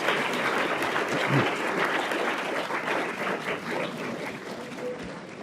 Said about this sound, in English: How about a round of applause for all of our students?